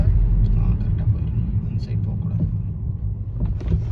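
A car on a road outside an American school passes by as a steady low rumble with a loud, constant presence under a person talking.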